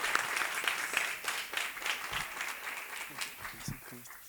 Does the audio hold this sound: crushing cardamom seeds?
no